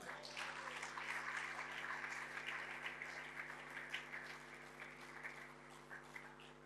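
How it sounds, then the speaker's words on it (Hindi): An audience at a mushaira and kavi sammelan applauds to welcome a poet: steady, dense clapping from many hands over a low electrical hum, gradually thinning toward the end. "मैं उन्हें बहुत सारी तालियों में आने की दावत देता हूँ।"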